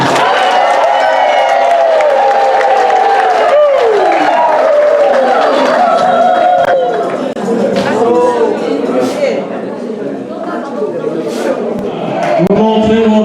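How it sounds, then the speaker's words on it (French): Wedding guests at a ceremony break into applause with scattered cheers and whoops, a steady crowd sound running throughout with voices mixed in. "On applaudit."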